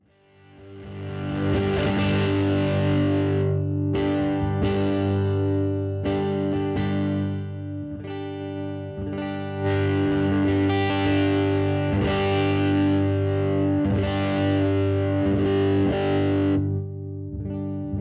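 A Harley Benton SC-550 Deluxe singlecut electric guitar is played through heavy distortion, with sustained chords and riffs ringing loud and thick, short gaps between phrases, and no talking.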